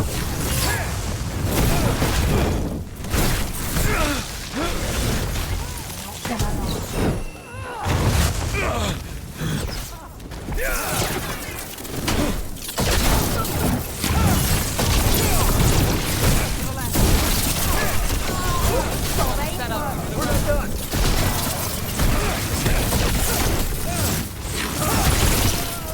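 Incoming fire and explosions in the fantasy game Dragon Age: The Veilguard make a constant dense roar of booms, crashes and whooshes, with voices speaking intermittently under the steady battle noise.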